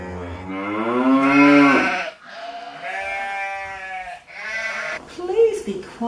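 A storyteller's voice imitates farm animals, drawing out long, loud moos for cows and sheep in a few sustained vocal calls separated by short breaths.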